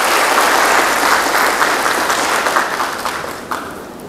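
Sustained applause from an audience at a Thai lecture on leadership and globalization, loud and steady clapping that tapers slightly toward the end.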